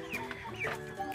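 Chickens cluck softly and repeatedly close by, with a few higher peeping calls mixed in.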